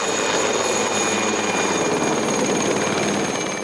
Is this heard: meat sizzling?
no